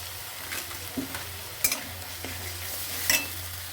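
A cumin and ginger paste masala is sautéed in a pan: a continuous close sizzle with a spoon stirring and scraping, and a few sharper knocks against the pan.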